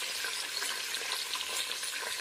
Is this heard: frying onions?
yes